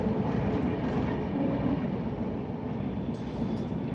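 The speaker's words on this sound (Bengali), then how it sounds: "ট্রেন যাচ্ছে ট্রেন" A train passing by, a loud steady low rumble of rolling wheels that eases slightly toward the end, heard from nearby with no talking.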